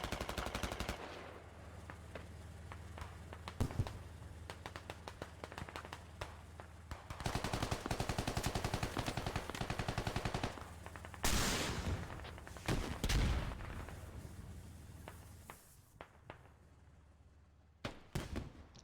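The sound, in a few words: small-arms gunfire hitting a tank in the video game Squad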